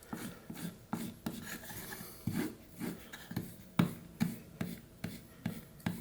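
A whittling knife blade is stropped on a strop in rhythmic back-and-forth strokes, each a soft rasping rub, close and quiet, with no talking.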